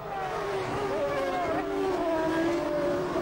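Formula 1 cars from the 2000 season roar off the grid at a race start, a dense, loud wall of high-revving engines with several overlapping whining tones rising in pitch.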